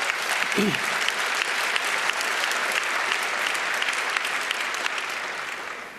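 Conference audience at a hacker congress breaking into sustained applause for a talk, a broad, even roar of many hands clapping that fades slightly toward the end, with a brief voice near the start.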